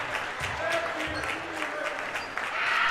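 High school boys basketball senior night crowd in a gym applauding the seniors late in the game, a steady wash of clapping and cheering under a commentator's voice.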